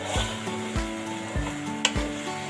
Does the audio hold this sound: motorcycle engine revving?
no